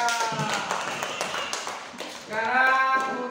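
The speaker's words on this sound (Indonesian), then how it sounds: "kasih tepuk tangan untuk kelompok 3" A classroom of students claps for a group that has just presented, a dense patter of hands that swells near the end and mixes with background voices.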